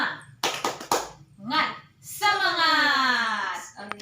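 A group of women does a rhythmic clapping chant: a few sharp hand claps come first, then voices call out together in a long sung shout, with another clap near the end.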